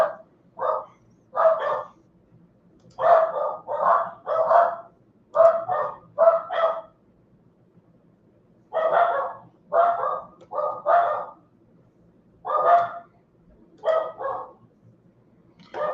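A dog outdoors barks in repeated bursts of two to four sharp woofs separated by short pauses, clear and fairly close against a quiet background.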